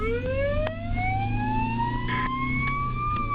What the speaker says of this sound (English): Sirens blaring, lights flashing